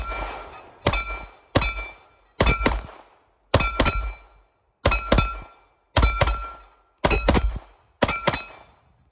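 Nine sharp gunshots from a Girsan Match-X pistol firing S&B 124-grain ammunition, evenly spaced about a second apart with brief ringing decay after each, loud and close with no talk.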